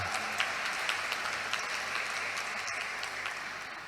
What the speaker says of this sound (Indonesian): Kita kasih aplaus untuk Inkava